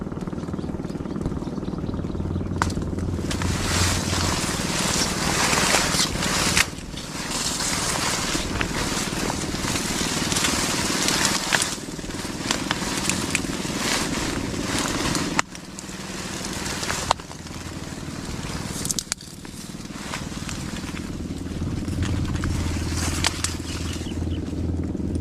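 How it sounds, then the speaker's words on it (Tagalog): A fishing boat engine chugs on open water, a steady loud drone mixed with wind buffeting the microphone and splashing, rising and falling in bursts across the stretch with no voices. "Umira na po yung bangka"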